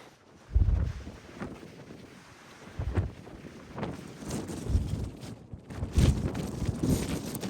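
Gusty wind buffets the microphone in low rumbling bursts on the Milford Track in New Zealand, with rushing air and faint rustling throughout.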